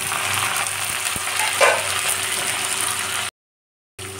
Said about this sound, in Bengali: তার মধ্যে দিয়ে দেব কেটে রাখা পেঁয়াজ